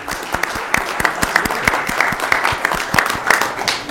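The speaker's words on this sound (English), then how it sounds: "Let's give one last round of applause to SEIU 2015 and all our home care workers here in the city of Rialto." A small audience at a city event for home care workers applauds, producing close, dense clapping that stays steady for the whole stretch.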